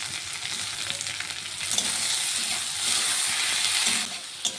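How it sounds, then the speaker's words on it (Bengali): Vegetables with capsicum and tomato stir-fried in a pan for an egg roll filling give a steady loud sizzle, with the scrape of a spatula stirring through, swelling briefly as the food is tossed. "আমি বাকি সবজিটিকেও একটু নেড়ে ছেড়ে নিয়েছি"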